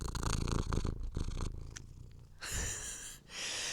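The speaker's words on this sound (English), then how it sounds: "listen to her purr" A cat purring close up, a steady rumbling drone broken by brief rustles and shifts, moderately quiet with no talking.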